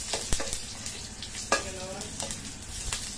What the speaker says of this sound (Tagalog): Lalagyan natin ng kunting mantika para sa ating paggisa ng ating sibuyas mga idol.